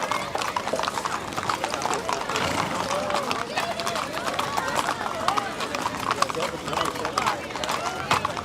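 Horses walking in a small-town Broiler-Dairy Days parade in Arcadia, hooves clip-clopping steadily and close, under crowd noise and an announcer's voice.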